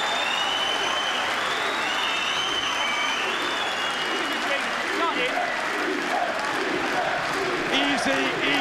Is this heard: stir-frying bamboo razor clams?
no